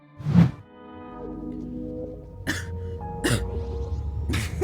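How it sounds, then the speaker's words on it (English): One sharp cough from a woman up close, followed by strained breathing and low throaty noises with a few soft thumps. "coughed as she regained consciousness, feeling a wave of nausea wash over her"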